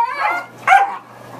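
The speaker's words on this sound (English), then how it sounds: "You barking at Jack?" A dog gives two quick barks close by, the second sharper and louder, followed by quiet.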